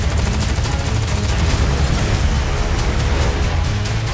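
Gunfire in the trailer for the 2012 action film Dredd: a dense, continuous barrage of shots at full loudness with a heavy low rumble, sustained without a break.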